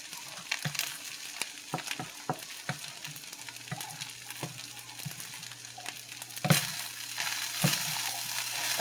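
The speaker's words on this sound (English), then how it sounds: "Scramble those eggs in the pan." Eggs scrambled in a frying pan over fried rice, stirred with a utensil: steady soft sizzle under repeated scraping clicks and taps against the pan, growing busier and louder toward the end.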